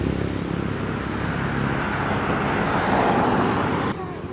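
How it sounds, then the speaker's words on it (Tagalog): Continuous roar of traffic rushing past on a busy road, loud and steady, with vehicles blending into a dense wash of engine and tire noise. "Daanan kasi yung nilalakaran namin."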